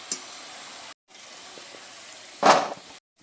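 Pieces of jaggery kotkoti crackle steadily in hot oil, a soft continuous sizzle with a brief louder burst of spitting near the end, close by and without talk.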